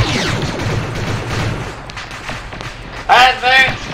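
Many gunshots fire at once in the military shooter game Arma 3, a dense fusillade of cracks and booms at the start with louder bursts near the end, mixed under excited talk.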